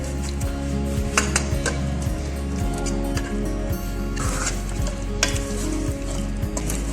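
Chicken fries loudly in a pan of cooked-down masala for a gourd chicken curry, a dense continuous sizzle broken by repeated spoon scrapes and stirring knocks at close range, with no talking.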